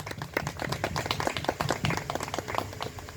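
People clap their hands in welcome during an early-morning devotional service, a close, brisk burst of irregular claps from a small group, loud and continuous for a few seconds.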